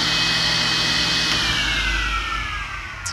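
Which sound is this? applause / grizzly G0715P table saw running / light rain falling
grizzly G0715P table saw running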